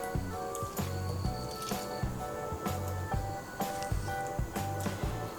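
Hands squeeze water out of boiled pointed gourd in a kitchen, giving repeated soft wet squishes and drips in a steady rhythm, close and fairly quiet.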